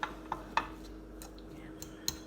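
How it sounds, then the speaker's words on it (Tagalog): A utensil mashes and stirs leftover fried fish in a bowl, giving several light, sharp clinks and taps spaced irregularly over a quiet background. "halu-haluin natin hanggang sa durog na durog yung isda"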